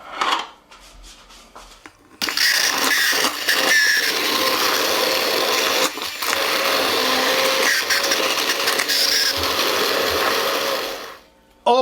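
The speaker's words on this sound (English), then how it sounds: "now we're going to puree our sauce" A blender purees BBQ sauce with a loud, steady whirring drone for about nine seconds, preceded by soft handling noises and cutting off sharply at the end.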